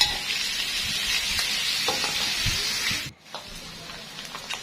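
Chili paste fries in boiling oil with a steady hiss and sizzle, close and fairly loud. It drops off suddenly partway through, then returns more faintly with small pops.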